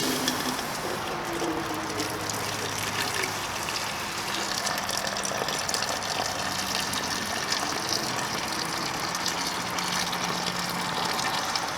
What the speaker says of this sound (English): In go the boiling water